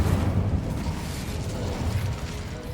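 Incendio fire spell cast in Hogwarts Legacy, a dense roaring whoosh of flame with a crackling, rumbling low body that holds steady and loud for about three seconds, no voice over it.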